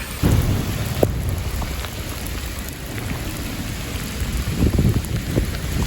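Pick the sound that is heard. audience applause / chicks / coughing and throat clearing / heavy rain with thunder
heavy rain with thunder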